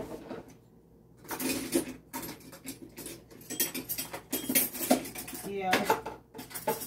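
A teaspoon scraping and tapping cookie dough onto a metal cookie sheet, irregular close clinks and scrapes in short bursts with brief pauses between.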